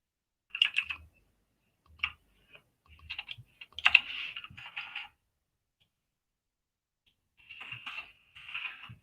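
Computer keyboard keys click in short uneven bursts, close and fairly quiet, with a long pause in the middle before another flurry of typing.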